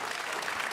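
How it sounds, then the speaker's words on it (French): A studio audience at a televised French Téléthon talent show bursts into dense, continuous applause that fills the whole brief moment. "Un tonnerre d'applaudissements."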